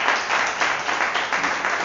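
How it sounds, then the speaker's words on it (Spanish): Church congregation clapping in praise during a Spanish-language service, a steady, close, continuous wash of many hands with even loudness throughout. "Denme un aplauso al Señor."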